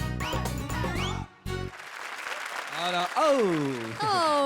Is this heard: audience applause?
yes